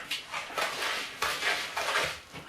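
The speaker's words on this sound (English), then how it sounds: "And we're stirring." A plastic spoon stirs a mixture in a bowl, producing repeated scraping and clinking strokes in a steady rhythm, close and fairly quiet, with no talking.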